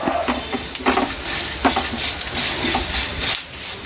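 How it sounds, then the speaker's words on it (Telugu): Prawn shells roasting in a little oil for a spicy prawn-shell powder. A loud, close sizzle is broken by repeated scraping stirs and clinks of a spatula in the pan. "ఇవన్నీ వేగిపోవాలి కొంచెం నూనె"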